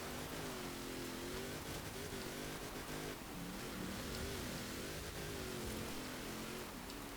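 A 1972 Land Rover Series III in Forza Horizon 4, built for extreme off-road but pushed toward 150 mph, drones with a loud, steady engine roar that holds high revs throughout with little change.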